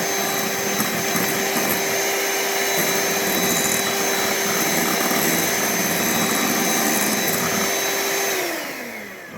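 Electric mixer whipping air into a mixture for a carnivore sausage pizza, a loud steady whine running continuously for several seconds before winding down at the end.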